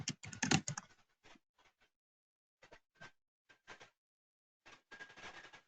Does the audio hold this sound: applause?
no